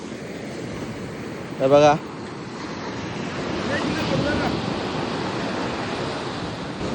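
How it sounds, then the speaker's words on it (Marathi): Sea waves roll onto the shore at Harihareshwar on the Konkan coast in a continuous broad wash of surf, heavily mixed with wind buffeting the microphone, while a voice speaks briefly near the start. "बघू शकता कसल्या लाटा येतात"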